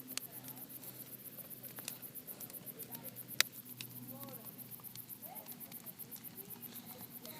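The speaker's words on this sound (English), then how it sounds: "It's friggin' raining out." Steady rain pattering outdoors, a continuous dense hiss of drops with scattered sharper ticks and one brief louder tap, moderately faint and even throughout.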